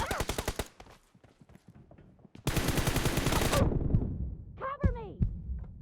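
Automatic M416 rifle bursts in PUBG Mobile, fired during a versus match: a short opening burst, then a sustained loud stretch of rapid fire. Game sound effects follow at the end.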